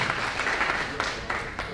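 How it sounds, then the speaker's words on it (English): Audience applause at an academic workshop on research integrity held at a university library, a dense steady patter of clapping from a seated crowd lasting under two seconds, fairly close and continuous. "you may give a big applause for our event today"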